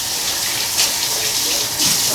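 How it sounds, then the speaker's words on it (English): Tap water gushes steadily into a kitchen sink during handwashing, a loud close rush with slight splashing changes. "let me wash my hands"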